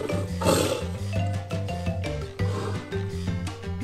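A tiger's roar in an animal-habitat learning clip for kids, a growling roar blended with a bouncy musical backing that runs throughout, no voice present.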